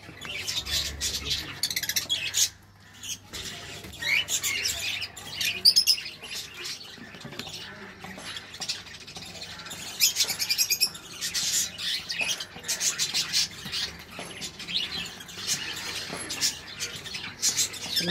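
Lovebirds chirp and tweet in quick, high bursts throughout, a busy flock nearby with occasional squawks and flutters.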